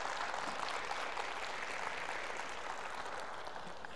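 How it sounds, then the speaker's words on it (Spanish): A church congregation claps together in a steady, dense wash of applause, fairly faint and distant, holding evenly throughout. "Un fuerte aplauso a ellos."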